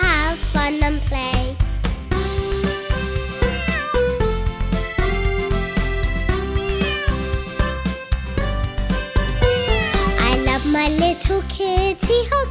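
A cat meows repeatedly in a children's nursery rhyme song. The meows are loud, close and set over bright music, part of a rhythmic sequence of cries running through the whole passage.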